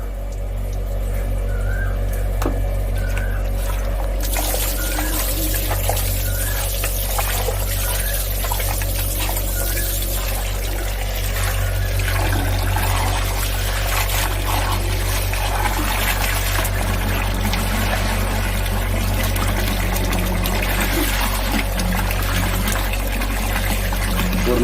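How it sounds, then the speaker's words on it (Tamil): Country chicken pieces are washed in water in a village kitchen, a continuous sloshing, trickling and splashing of liquid with low background hum, no talk. "ஒரு 4-5 அலசை தண்ணியில் போட்டு அலசிக்கு கறியை சுத்தமாக"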